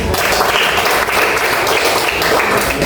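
An audience applauds loudly and steadily at an academic presentation, a dense wash of clapping close to the recorder that holds for about three seconds without pause.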